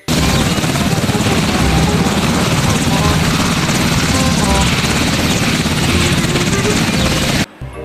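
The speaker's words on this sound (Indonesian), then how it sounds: "lihat bosku, ada helikopter tempur" A military attack helicopter roars close and loud, its rotor thudding in a dense, constant wash of noise that cuts off abruptly near the end.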